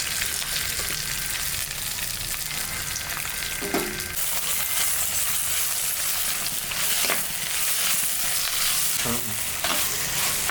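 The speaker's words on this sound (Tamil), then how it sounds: "வெங்காயம், தேங்காய், தக்காளி எல்லாத்தையுமே போட்டு ஒன்றா வதக்கிக்கலாம்." Onion, coconut and tomato fry together in a pan for a crab gravy, a constant sizzle broken by repeated scraping strokes of a spoon stirring the mixture, close and fairly loud.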